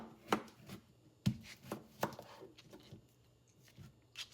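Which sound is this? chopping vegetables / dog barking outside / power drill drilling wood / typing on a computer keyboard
chopping vegetables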